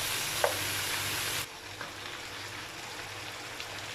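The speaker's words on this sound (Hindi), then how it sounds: "तो चिकन डाल के अच्छे तरीके से इसको करना है हम लोगों ने मिक्स और चंद मिनट के लिए इसको हम लोग करेंगे फ्राई।" Chicken frying in a pan with spices makes a dense close sizzle for about a second and a half, then drops to a softer, steady frying hiss with a few light stirring scrapes.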